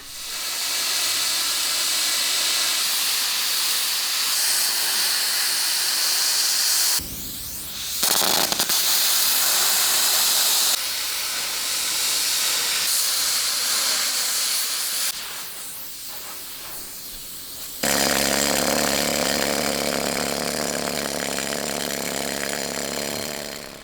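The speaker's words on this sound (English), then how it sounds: "Jesse has to use a plasma cutter to take off all the old weld." A plasma cutter cuts away old weld on a Jagdpanther tank during restoration, giving a loud, continuous harsh hiss with abrupt stops and restarts and changes in tone.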